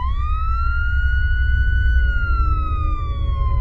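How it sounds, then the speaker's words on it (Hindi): A loud, steady electronic police-siren mobile phone ringtone rising slightly then falling, with bright harmonics, playing alone without voices over a low hum. "ये पुलिस की सायरन की आवाज नहीं बल्कि मेरी मोबाइल की रिंगटोन है।"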